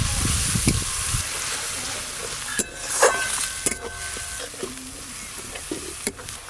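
Onion paste with ginger and garlic paste frying in hot mustard oil, giving a steady close sizzle with occasional stirring clinks and scrapes, no talking.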